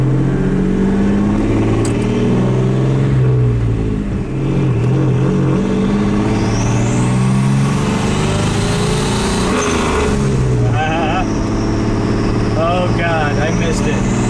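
A boosted Dodge Dakota truck with a new turbo exhaust setup gives a loud, sustained engine drone that rises as it accelerates, mixed with heavy wind noise.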